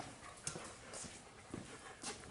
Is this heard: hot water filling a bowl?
no